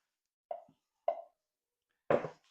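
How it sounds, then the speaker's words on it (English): Frosting spooned onto saran wrap lands in three soft, wet plops, two close together and a third after a pause, each short and near in an otherwise quiet kitchen. "So I'm just gonna go ahead and spoon this right onto some saran wrap."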